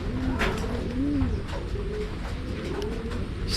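A racing pigeon coos in soft, rolling phrases, repeated several times close by against steady background noise during a rainy-day pigeon race.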